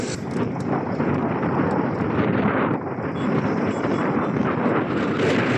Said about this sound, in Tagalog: ang lakas ng hangin kasi.